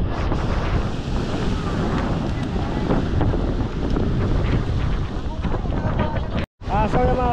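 Loud wind buffets the microphone along a seashore as rising waves roll and churn in a constant roar, with voices talking briefly near the end.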